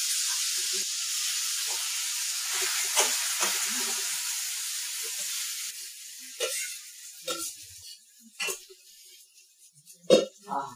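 Phodni, a hot-oil tempering for Karnataka-style kuttu avalakki (beaten rice) with dal and peanuts, sizzles in a pan with a steady, loud hiss that gradually thins out, punctuated by sharp crackles and pops toward the end.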